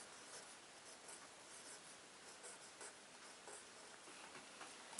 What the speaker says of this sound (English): I will write my name